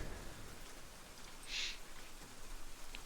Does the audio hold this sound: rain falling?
yes